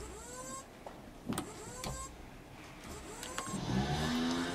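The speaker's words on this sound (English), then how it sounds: "there's motors underneath the seat, and you can actually move this through the motors" Electric trim motors beneath a helicopter seat drive the cyclic stick, giving a few short, close whirring motor runs with faint clicks and some background rustle.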